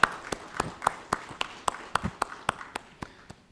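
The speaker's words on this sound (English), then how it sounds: "Please help me welcome them with big round of applause." Sparse applause at a cybersecurity conference panel as panel members are welcomed, a thin scattering of distinct hand claps at a modest level, close and quiet, with few people clapping.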